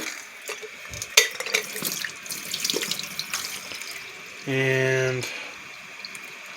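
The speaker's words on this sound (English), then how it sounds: "turn the hot water on," Hot water gushes from a kitchen tap into the carafe of a Mr. Coffee 4-cup coffee maker in one short, steady pour, after clinks and handling noises nearby.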